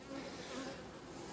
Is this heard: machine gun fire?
no